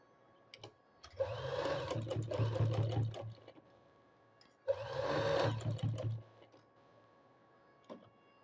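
Sewing machine stitching a zipper seam, two distinct bursts of fast rhythmic needle clatter each lasting a couple of seconds, separated by a quiet pause, close up.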